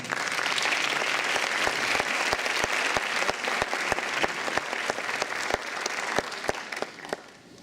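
An audience at a 2017 human rights award ceremony in Brazil claps steadily for several seconds, a dense, loud wash of applause with a few sharp nearby claps standing out, then fading slightly at the end.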